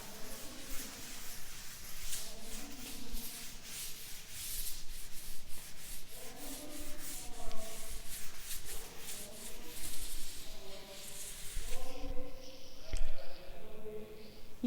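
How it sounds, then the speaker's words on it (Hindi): Writing being rubbed off a board during a classroom lesson, a steady scrubbing swish that comes in repeated strokes, close and moderately loud, with a voice faintly in the background. "मैं ऊपर का रब कर देती हूँ इसको"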